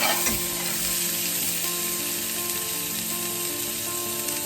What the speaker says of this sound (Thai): ผัดให้เครื่องแกงพอหอมนะคะ